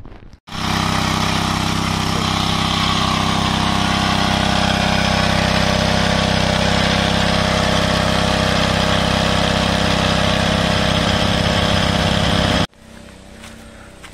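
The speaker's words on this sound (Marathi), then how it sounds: "मशीन तर चालू केलंय." A pesticide spraying machine's engine runs steadily in an orchard being prepared for Alphonso mango season in Ratnagiri, a loud, even motor drone that holds for about twelve seconds before cutting off abruptly, leaving quieter background.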